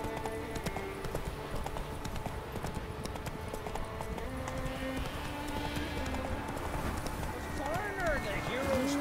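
Roach the horse gallops in The Witcher 3 video game, a steady clip-clop of hooves running continuously under game music and talking voices, loud and close throughout.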